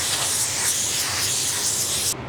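Anti-static air gun blowing a steady hiss of air across a black Chevy hood panel during paint prep, a loud continuous rush held for about two seconds that then cuts off abruptly.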